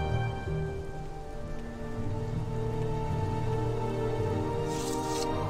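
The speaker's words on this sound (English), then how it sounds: "God, it's raining?" Steady rain falls in the game Morrowind, a dense, even hiss of raindrops on surfaces lasting throughout, layered over sustained tonal game music with no talking.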